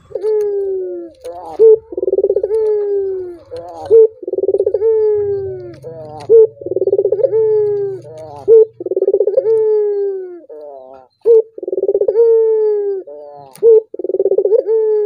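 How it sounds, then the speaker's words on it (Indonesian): A male barred dove (puter) coos loudly and close by in a steady repeating rhythm, each deep phrase followed by short sharp notes, with a faint low hum underneath at times. "Dan kalau untuk suara puter jantan seperti ini lebih besar ketimbang si puter betina."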